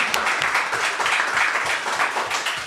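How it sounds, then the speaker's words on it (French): An audience at a municipal council meeting applauds, a brief burst of steady, moderately dense clapping from a roomful of people, heard alone without speech. "Oui, applaudissons."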